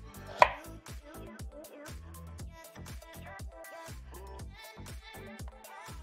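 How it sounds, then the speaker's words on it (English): Steady knife chopping of vegetables and hot pepper on a cutting board for a game-day chili, a fast run of close, crisp, even strokes with one louder hit near the start. "Cut them up to small pieces."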